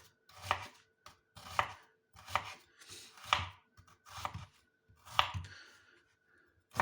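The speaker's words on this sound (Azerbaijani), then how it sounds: "Soğanımızı xırda-xırda doğrayırıq" A knife chops onion finely on a board in a steady series of close, distinct strikes, each a short thud with a crisp edge, with small pauses between, and no talking.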